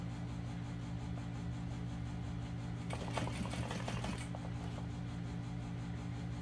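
Close-up, a sewing machine stitches a vinyl knapsack, a rapid, even mechanical whir running throughout with a brief denser clatter partway through.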